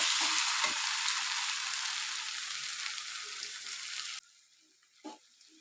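Ivy gourd frying in a pan with chilli powder and turmeric, stirred steadily under a loud, continuous sizzle that cuts off abruptly near the end, leaving a brief scrape.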